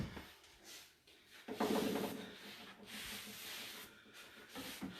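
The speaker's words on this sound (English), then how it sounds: "I'm just going to take a damp rag, a little bit of water on my t-shirt here, and wipe away that sanding dust" Damp cloth rubbing over sanded painted furniture to wipe off dust, soft close swishing strokes in uneven bursts, alone.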